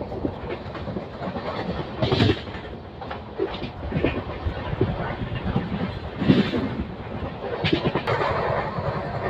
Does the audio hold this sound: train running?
yes